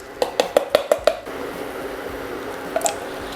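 Canned peas plop into a pot in a quick run of about six wet, squishy splats, close and fairly loud, followed by quieter liquid sloshing and a small clink near the end.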